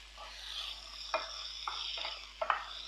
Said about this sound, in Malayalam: 2 മീഡിയം സൈസ് തക്കാളി മുറിച്ചത് ചേർത്ത് കൊടുക്കുന്നുണ്ട്.